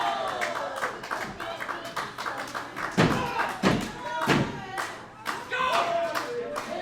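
Wrestling ring impact from a cutter in a match between two wrestlers: several heavy thuds and slaps land in quick succession over constant crowd noise and scattered clapping, with commentary voices running underneath.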